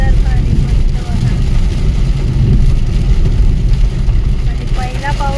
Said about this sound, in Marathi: तर आम्ही पहिला पाऊस कोकणात बघितला